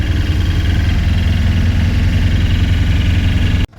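A generator engine with a freshly fitted radiator runs at a steady idle, loud and close with an even low throb, cutting off abruptly at the very end.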